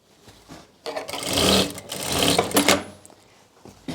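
A sewing machine stitching a sleeve around the armhole of a kurti, running in two close, fairly loud whirring bursts separated by a brief pause, with no talking.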